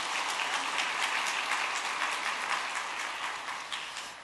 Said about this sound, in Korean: 우리 격려의 박수 한번 드리겠습니다.